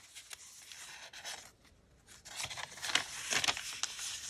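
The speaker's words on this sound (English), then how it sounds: "I don't know what it is with wrinkly papers, but I love the sound they create." Soft crinkling and rustling of wrinkled paper pages in a junk journal being handled up close, quiet and intermittent, growing a little busier toward the end.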